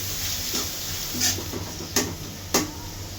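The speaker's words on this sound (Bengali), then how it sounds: "পেঁয়াজটা ভালো করে 3-4 মিনিট ভাজা নিব।" Chopped onions frying in oil with cinnamon, cardamom and bay leaf in a wok for khichuri, a soft steady sizzle broken by three or four sharp clinks of a spatula against the pan.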